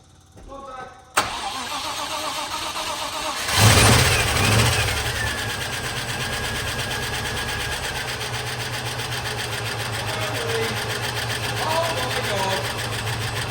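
A Range Rover Classic with a swapped-in 4.0 V8 cranks and catches, then settles into a steady loud rumbling idle, with excited voices over it.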